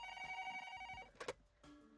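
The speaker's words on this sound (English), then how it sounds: "the phone immediately started ringing" A phone rings in the visual novel game Collar X Malice, a short electronic ringtone with bright repeated tones that sustain for about a second, then cut off, followed by a brief clatter and a fainter new tone.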